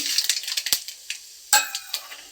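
Mustard seeds and moong dal sizzling and popping in hot oil, a rapid scatter of sharp crackles with a couple of louder pops and a faint spoon scrape, no talk.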